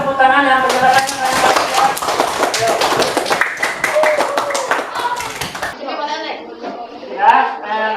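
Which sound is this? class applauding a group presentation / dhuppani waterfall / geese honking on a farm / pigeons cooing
class applauding a group presentation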